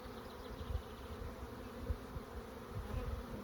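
Honeybees buzz softly on a brood frame during a hive inspection, a close, continuous hum with small swells and no talking.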